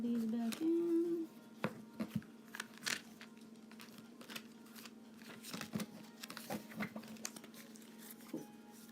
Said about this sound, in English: And just shuffle these back in.